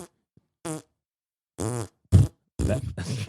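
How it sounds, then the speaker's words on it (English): Short, loud fart sound effects come in bursts, several separate blasts broken by silences, with a grunt-like quality and no talk over them. "we even record your farts while you sleep, Zach."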